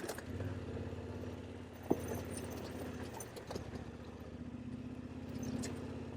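A motorcycle ridden along a road near Montenegro's capital: a steady engine drone with low hum and wind noise, one sharp click partway through, close and constant, with no talk.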